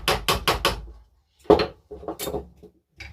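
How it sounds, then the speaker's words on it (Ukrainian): A small hammer taps wooden beehive frames together, giving a quick cluster of four sharp close knocks, then a single louder strike after a pause and a few lighter taps. "Молоточок."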